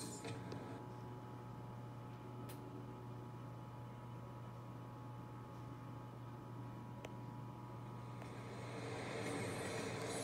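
A metro train in Marvel's Spider-Man game rumbles quietly and steadily with a constant low hum and faint mechanical whine, broken by a couple of sharp ticks.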